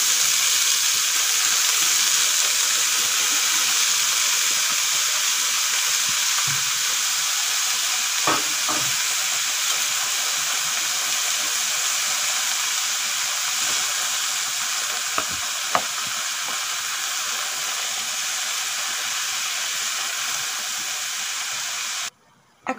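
Tender radish greens sizzle with fried onions in a pan, a loud, steady frying hiss that holds alone throughout, with a few faint utensil clicks.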